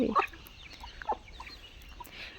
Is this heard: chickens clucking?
yes